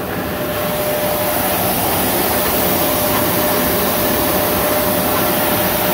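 An SCM Sandya RCS110 sanding machine running, a loud steady broadband roar with an even hum that holds constant throughout without breaks.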